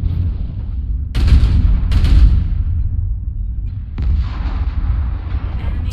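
A video game tank strike lands as a series of heavy artillery blasts: deep booming impacts with sharp cracks, several hits in quick succession, and rumbling decay between them.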